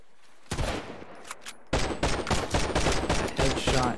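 Gunfire in the survival game Sunkenland: a single loud shot, a couple of faint pops, then a rapid volley of about a dozen close, sharp shots fired in quick rhythm.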